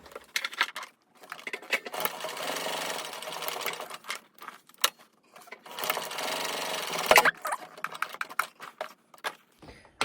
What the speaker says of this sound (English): I'm going to go over to the machine and I'm going to stitch up and across and back down